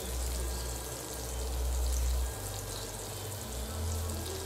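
Jackfruit nuggets frying in grease that is starting to burn, giving a soft, steady sizzle and crackle with low rumbling swells underneath, fairly quiet and continuous with no talking.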